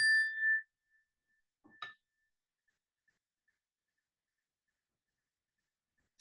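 A meditation bell is struck once, giving a clear ringing tone that fades into a long, faint hum before near silence. A soft tap follows midway through.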